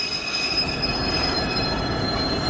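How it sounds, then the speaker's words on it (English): A freight train rolls past a station platform in a continuous, even rumble of wheels and wagons, with a faint high squeal riding over the steady noise. "There's another freight just gone up the back of there."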